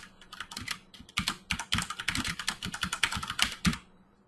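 Rapid, steady typing on a computer keyboard, close up, with dense clusters of key clicks and a brief pause near the start, no talking.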